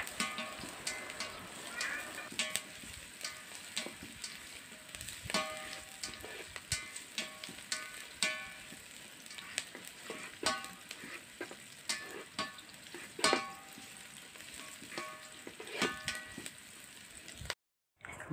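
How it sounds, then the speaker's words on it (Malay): Onions fry in oil in a wok until crispy, giving a steady, dense sizzle throughout with occasional stirring scrapes and light clinks, close and continuous, with no talk. "Kita gorengkan sehingga ianya benar-benar garing."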